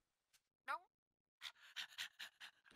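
Rhythmic, breathy panting from a dog in an anime episode, a rapid run of close, loud huffs following a brief whine-like cry, with no talk over it.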